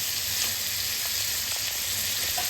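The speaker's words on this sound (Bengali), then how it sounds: "মাংসটা আস্তে আস্তে কষিয়ে নেব ঢেকে ঢেকে রেখে রেখে" Chicken pieces sizzle and fry slowly in a pan for a Bengali chicken kosha curry, a steady close crackling hiss with faint stirring scrapes, no voices.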